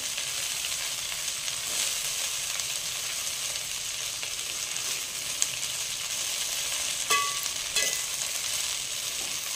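Fenugreek leaves sauté in ghee in a pan for a methi matar malai, with a steady close sizzle running throughout and a few brief clinks of a spoon near the end.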